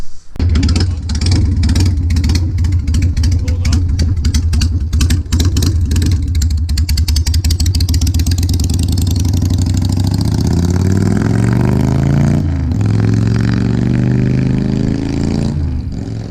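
Harley-Davidson motorcycle engine, close and loud, chugging through a fast, lumpy idle before rising into a sustained rev that settles back into a steady drone.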